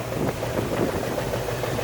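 A 1972 Ford Bronco idles at low revs, a steady, close mid-range engine rumble with a slightly uneven throb and no voices.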